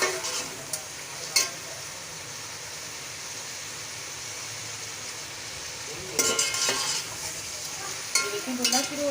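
Beef pulao masala with yogurt roasts in a pot with a steady bright sizzle throughout. Bursts of stirring and scraping come in louder around the middle and near the end.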